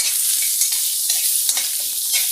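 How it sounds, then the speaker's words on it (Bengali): Leftover cooked rice frying in a pan, a steady close sizzle broken by scraping stir strokes every half second or so, with no talk. "বাসি ভাতের ফ্রাই করছে"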